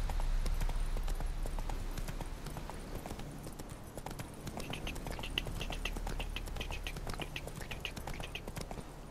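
Roach, a horse in The Witcher 3, galloping with steady rhythmic hoofbeats on the ground, moderately close and continuous, under faint ambient outdoor sound.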